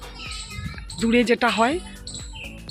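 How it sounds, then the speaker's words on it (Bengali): A bird calls outdoors near a Kolkata home during the Ulto Rath festival, a bright warbling call of about a second, close and clear, with a few faint chirps before it and after it. "একটা পাখি ডাকছে, কি ভালো লাগছে"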